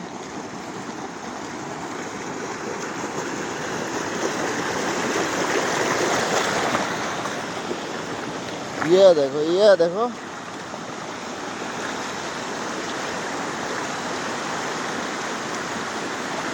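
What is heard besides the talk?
floodwater flowing over a field embankment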